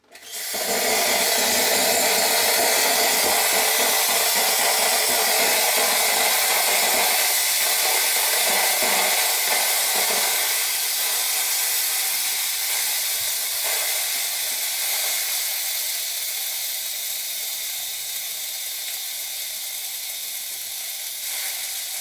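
A Gaggia Classic espresso machine's steam wand purges steam in a loud, continuous, close hiss that stays strong for about twenty seconds and then slowly weakens toward the end.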